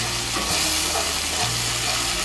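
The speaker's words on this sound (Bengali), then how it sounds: "টমেটো বাটাটাকে মিশিয়ে নেব তেলের সঙ্গে" Tomato paste sizzling and frying in hot oil in a pan for a Bengali kofta curry, a steady close hiss with faint stirring scrapes.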